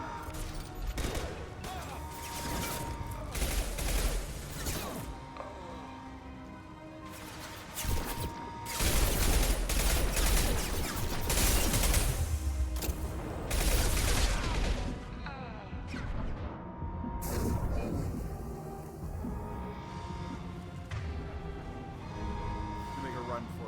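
Rapid gunfire and crashing impacts from combat in Mass Effect 2, loud and dense during the first half and then thinning, with voices talking over the action.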